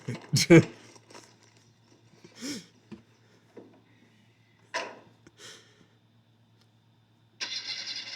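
Car engine starting in the video game Gabriel Knight 2, brief cranking bursts between pauses, then a steady engine note at the end, with people talking over parts of it.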